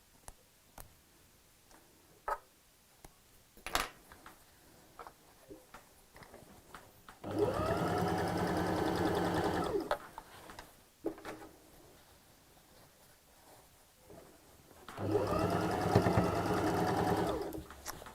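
A sewing machine stitches a tote bag seam, going over a lumpy section in two sustained runs separated by quiet handling clicks and taps.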